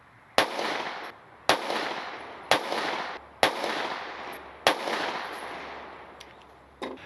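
Five sharp handgun shots from a pistol fitted with a Holosun EPS red dot, fired at a steady pace about a second apart, each a loud crack trailing into a short outdoor echo.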